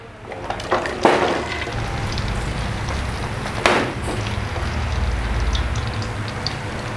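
Shallots and garlic drop into hot oil, giving a steady close sizzle with a couple of sharp bursts as the ingredients go in.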